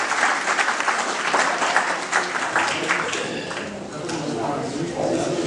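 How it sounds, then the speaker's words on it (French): An audience applauds at a scout gathering in Mauritania, a dense round of clapping that carries on steadily and then thins slightly toward the end. "Merci encore de l'applaudir."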